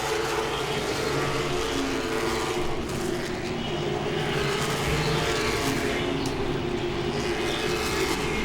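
Late model stock cars racing at Langley Speedway during the Hampton Heat 200, a continuous dense roar of engines circling the oval with slow swells as cars pass, loud and unbroken with no clear speech.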